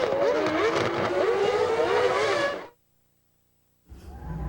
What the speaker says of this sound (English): Race leader Damon Hill comes across the start-finish line.